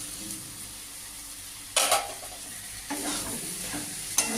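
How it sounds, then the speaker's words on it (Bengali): Fried soybeans are stirred into chana dal frying with spices. A soft, steady sizzle is broken by a few scraping, clattering stirs of the spoon in the pan. The sound is close and there is no talking. "দিয়ে ভালো করে মেশাতে হবে ডালের সাথে"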